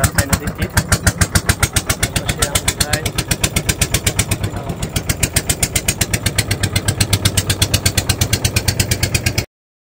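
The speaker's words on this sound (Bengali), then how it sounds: "নৌকাতে করে আত্রাই নদী পার হচ্ছি," A boat engine putters in a fast, steady, loud chugging rhythm while crossing the Atrai river, close and continuous, with no voices over it.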